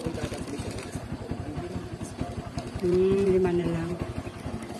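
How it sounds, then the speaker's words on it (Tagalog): A street vendor's motorcycle engine left idling, a steady low putter with fast regular pulses under nearby talk, with a brief tonal horn-like sound midway. "Tapos ayaw pang pantayan ni Kuya yung motor niya, sayang yung gasolina"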